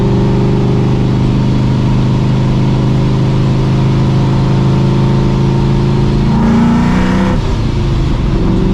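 A modified 600 hp 2V Ford Mustang GT idles with a steady, loud rumble, then revs sharply once near the end before settling back to idle. No one speaks.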